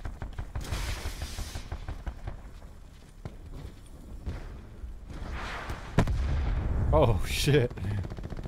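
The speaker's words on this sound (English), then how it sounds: "Guy shooting a rocket." Rocket fire and gunshots in a Call of Duty Black Ops 4 Blackout match on Alcatraz, with sharp bursts and a loud blast near the end over a busy game mix, while a player speaks briefly.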